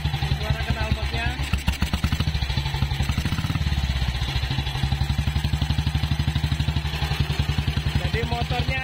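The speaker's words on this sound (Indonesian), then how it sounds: "Suara knalpotnya." A 1948 BSA 350cc motorcycle engine runs steadily at idle, its single-cylinder exhaust thumping in a fast, even pulse that stays loud and close throughout, with a brief blip of revs near the middle.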